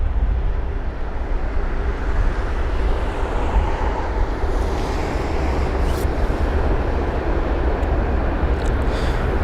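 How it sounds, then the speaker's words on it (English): A Singapore Airlines Airbus A380 taxiing fast at London Heathrow, a steady broad engine roar holding at a constant level throughout with no pauses. "And there's the Singapore 380."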